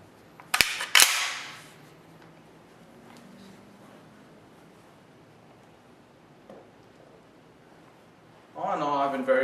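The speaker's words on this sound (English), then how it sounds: "So push up on it, and now the bolt is locked to the rear." An FN FAL rifle, a DS Arms build, has its bolt pulled back and locked to the rear, giving two sharp metallic clacks close to the mic near the start, then quiet handling with a rustle at the end.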